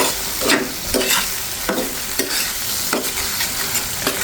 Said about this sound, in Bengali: এখন এটাকে একটু থেতো করে দিচ্ছি